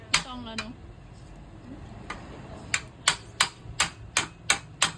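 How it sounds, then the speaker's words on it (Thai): Sharp hammer strikes drive lever parts into a shoe sole press in a steady rhythm, spaced at first then coming quickly in a run of about eight close knocks. "นี้นะคะเราตอกสลับอันสองอันนี้ให้จนสุดเลยนะคะ"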